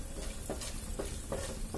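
Tempering sizzling in hot oil for Rayalaseema-style peanut chutney, a soft continuous fry hiss with a few light stirring scrapes spaced through it, fairly quiet and close.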